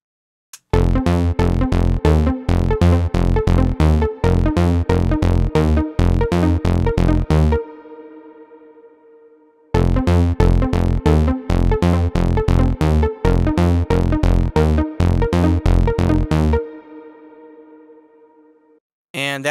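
Bright synth plucks play a quick rhythmic pattern over a deep bass line, stopping with a trailing echo, then repeating the phrase.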